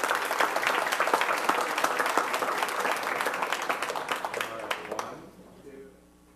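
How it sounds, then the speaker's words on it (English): Audience applause at a school district board meeting honoring the Instructional Support Staff of the Year: steady clapping for about five seconds, with individual claps standing out near the end before it stops abruptly into quiet room tone. "Let's give her a round of applause."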